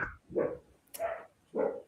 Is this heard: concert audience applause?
no